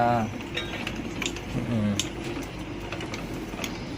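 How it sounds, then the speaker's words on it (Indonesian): A rolling mill presses silver stock for a square-link necklace chain, giving light metallic clinks and mechanical rattles, close but fairly quiet, with faint talk nearby. "Nah ini proses kembali masuk ke penggilingan ya guys"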